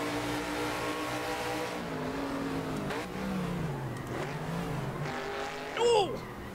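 A V8 TransAm Legends race car in the Assetto Corsa racing game drones steadily at high revs, the engine note rising and falling through gear changes and corners, with a brief sharper squeal near the end.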